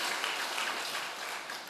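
A church congregation claps to welcome first-time visitors at a Sunday worship service, a steady, dense wash of many hands applauding together at moderate distance, with no talking over it.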